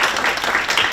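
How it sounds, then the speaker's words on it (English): Round of applause at a student senate meeting, a short burst of steady, dense clapping from the room filling the whole second. "So I want to just do a round of applause for you all right now."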